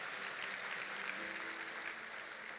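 A church congregation applauding at a Pentecost service, a dense, even wash of many hands clapping together, distant and fairly faint, sustained throughout without a break.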